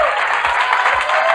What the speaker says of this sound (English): So please applaud also for them.